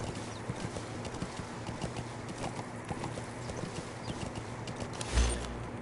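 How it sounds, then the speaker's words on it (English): Horse hooves clip-clop at a steady trotting rhythm in Metal Gear Solid 5, close and continuous, with a brief louder thump near the end. "I'm gonna call the horse Horsey just cause."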